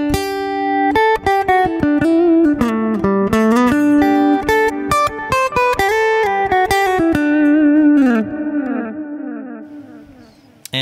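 Electric guitar through an Axe-Fx III blended with a bright acoustic simulation layer, playing a lively melodic phrase with quick notes and sustained chords, then decaying near the end.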